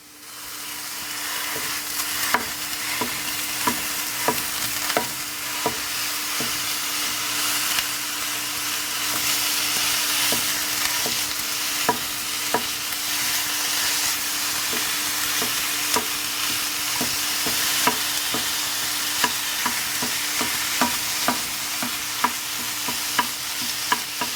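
Ground beef browning in a pan for tacos: a steady, close sizzle and hiss runs throughout, broken by frequent sharp scrapes and clicks of a utensil stirring and breaking up the meat.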